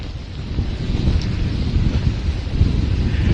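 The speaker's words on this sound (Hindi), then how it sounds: "इस वक्त बहुत तेज हवाएं चल रही हैं मुंबई में" Strong cyclone wind from Cyclone Nisarga at Nariman Point, Mumbai, roaring steadily and loudly against the microphone with heavy low rumble and no break throughout.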